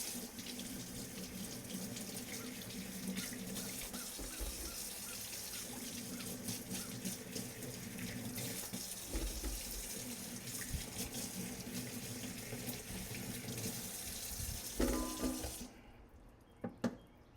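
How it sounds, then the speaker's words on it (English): Sweet potatoes being washed under a running kitchen tap: a steady, close stream of water splashing into a sink for about fifteen seconds, then cutting off, leaving a few faint drips and handling sounds. "Start by washing as many sweet potatoes as you need."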